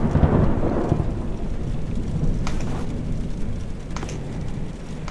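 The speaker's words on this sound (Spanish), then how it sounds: "Solo es el sonido de la lluvia." Steady heavy rain and rolling thunder from The Joy of Creation video game, a loud, continuous roar with deep rumbles and a few sharper crackles.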